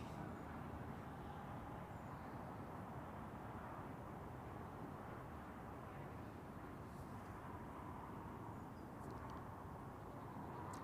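Swiss Boeing 777 airliner taxiing at Zurich Airport, a steady distant jet engine rumble and hiss holding level throughout with no voices.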